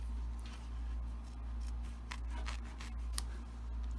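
Applique scissors cutting fabric: repeated crisp snips and clicks at an uneven pace, close and fairly quiet over a constant low hum, with no talk.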